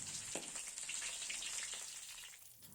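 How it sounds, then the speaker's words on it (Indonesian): Shallot and garlic frying in a pan for Balinese sambal embel, a steady close sizzle with faint crackle and no talking. "Sekarang saatnya goreng-menggoreng."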